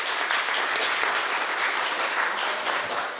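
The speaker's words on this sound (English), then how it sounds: "So big applause for Anomaly Pulse Masters." Steady audience applause fills the room after a student team's presentation at a university innovation competition in Prague, a dense, even wash of clapping that holds for the whole stretch with no voices over it.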